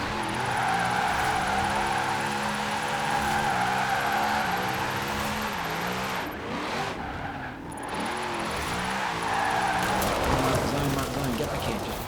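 Car tires skid and squeal through a long drift in a video game on Fortune Island, with the engine droning and revving steadily throughout and a brief dip in the middle; someone talks over it.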